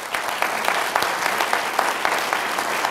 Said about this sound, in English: A nice round of applause for them being willing.